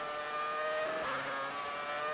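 A Formula 1 race car in the F1 2019 video game, its engine a loud, steady high-pitched whine sustained throughout, with the pitch shifting slightly as it drives.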